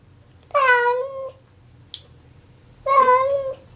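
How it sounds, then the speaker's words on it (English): A cat meows twice, two drawn-out tonal cries separated by a short pause with a tiny click between them, close and clear against a quiet background. "Meow. My poor kitty."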